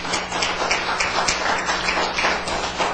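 An audience applauds at a live talk event, a steady wash of many hands clapping close and loud throughout, with no break in the sound.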